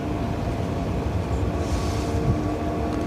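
Heavy Aer Lingus airliner at Dublin airport, a continuous low-pitched roar that rumbles steadily throughout without any voices over it.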